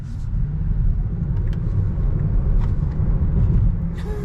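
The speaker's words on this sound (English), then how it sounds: "The Tesla, you just floor it." A Tesla Model 3 electric car accelerates hard from a stop, heard from inside as a steady low rumble of road and motor noise that stays fairly loud throughout, with no engine revving or talking.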